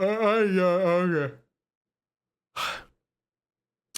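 A long drawn-out vocal yawn with a wavering tone fades out, then a short breathy exhale follows after a pause.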